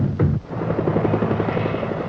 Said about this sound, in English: A helicopter over Buckingham Palace on a summer morning.